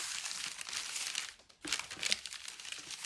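Steady crinkling and crumpling of wrapping material, close and continuous, with a brief pause midway before the rustling resumes.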